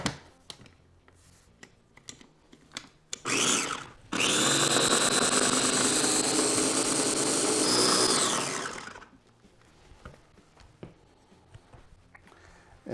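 A blender whirs loudly for about five seconds, emulsifying buffalo wing sauce, after a short start-stop pulse, with quieter clinks and handling noises before and after.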